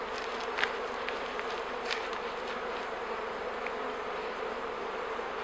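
Honey bees buzz steadily around an open hive in spring, with a drone among them: a continuous dense hum with occasional louder passes as individual bees fly close.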